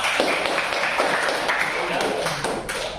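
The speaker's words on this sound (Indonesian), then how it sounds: "Akhir tepuk tangan." Students applaud in a classroom during a history lesson, a short burst of dense, steady clapping at close range with voices mixed in.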